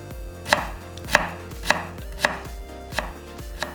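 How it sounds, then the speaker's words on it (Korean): A knife cuts radish into thin julienne strips on a cutting board, each stroke a crisp, close chop landing in a steady, even rhythm, with no voices. "다시 같은 두께로 채 썰어"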